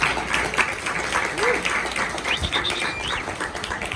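Dense, sustained audience applause greets a speaker at an architecture lecture, filling the room evenly with a few voices and whistle-like calls mixed in.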